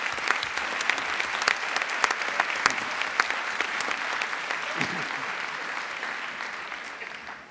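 Steady applause from an audience in a hall, honouring students from a Perpignan high school at an opening address; dense, even clapping that continues throughout before tapering slightly at the end.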